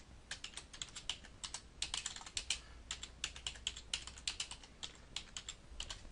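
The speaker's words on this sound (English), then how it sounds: "Now I can start typing here" Quick, uneven keystrokes clatter on a computer keyboard while someone enters data into preventive maintenance software, the clicks close and fairly quiet with brief pauses between bursts and no voices.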